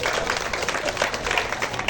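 Audience applause in a hall at a gathering of traditional medicine practitioners, a dense, lively clatter of many hands clapping close by, steady for the whole moment.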